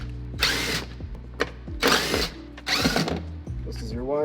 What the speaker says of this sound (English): I'm actually gonna impact this